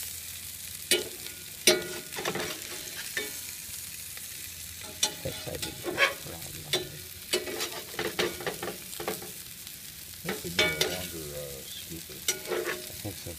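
Meat frying in butter in a pan, a close, steady sizzle broken by frequent sharp spits and pops, some louder than others, with no voices.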